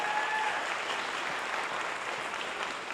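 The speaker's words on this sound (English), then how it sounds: "round of applause for them" A theater audience gives dense, sustained applause for young performers from a musical, a broad, even roar of clapping that holds steady throughout.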